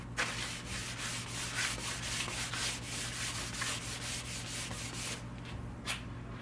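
Oil is rubbed by hand onto a spalted magnolia wood bowl on a woodturning lathe, making a close, continuous rasping rub with steady rhythmic strokes over a low hum.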